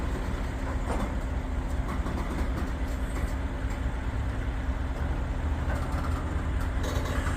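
A long freight train creeps slowly past at a rail-watching spot, giving a steady low rumble with faint clanks, at moderate distance and fairly quiet.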